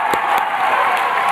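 Graduating class at a Columbia University commencement applauding and cheering, a steady, dense wash of clapping from a large crowd with no pause.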